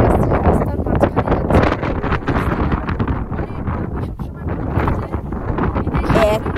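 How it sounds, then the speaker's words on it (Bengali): Strong, cold wind on a high mountain road in the Pang valley desert, roaring and buffeting the microphone loudly and continuously in close gusts that bury a voice speaking beneath it. "এত হাওয়া যে আমার কথা কিছুই আপনারা শুনতে পাবেন না, এত হাওয়া"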